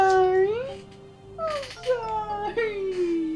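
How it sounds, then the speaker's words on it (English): A pet cat named Kira meows in a few drawn-out, wailing cries close by, partly overlapping a person's apologetic speech. "And that's my cat."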